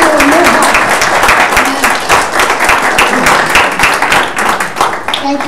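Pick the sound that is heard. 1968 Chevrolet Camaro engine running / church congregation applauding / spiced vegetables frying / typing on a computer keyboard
church congregation applauding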